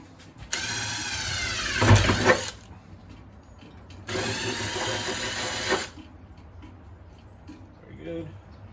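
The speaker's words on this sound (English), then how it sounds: "We're gonna use little impact to drill those out." A small impact driver drills holes in two sustained whirring bursts, nearby and fairly loud, with brief quieter pauses and a clunk between them.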